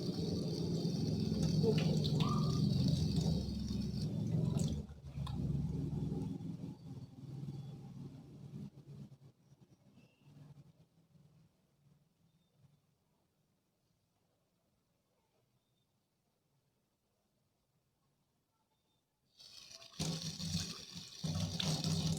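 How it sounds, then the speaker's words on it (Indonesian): Water running from a tap while hands are washed, a steady broadband splash for about five seconds that then fades to near silence before another burst of running water near the end. "saya izin cuci tangan terlebih dahulu ya"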